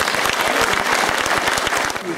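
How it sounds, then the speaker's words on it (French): Audience applause at a 2010 congress in Mortagne after a candidate's election result, a steady dense clapping that stays loud throughout, with a voice faintly over it near the end. "On applaudit Daniel Orr"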